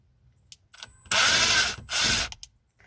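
Short bursts of a power tool undoing bolts on a 2001 Jeep Grand Cherokee during heater core work, a couple of whirring mechanical runs with brief pauses and a few clicks, close and fairly loud.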